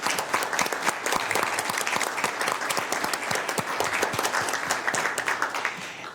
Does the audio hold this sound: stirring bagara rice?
no